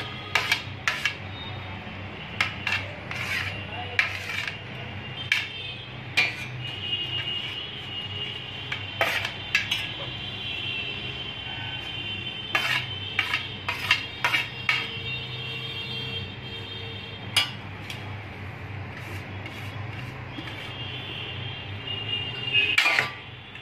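Bread pizza ingredients mixed in a bowl, heard as scattered clinks and taps of a spoon against the dish over a low background hum, with no speech.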